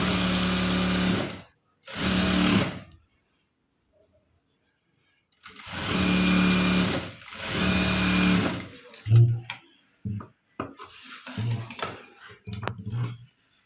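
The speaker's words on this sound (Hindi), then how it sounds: "इसे हमने फिर से यहाँ से एक एक पैर पर सिलाई लगानी है" A sewing machine stitches sleeve fabric in a tailoring workshop, running in long close steady bursts with short pauses, then switching to brief stop-start runs toward the end.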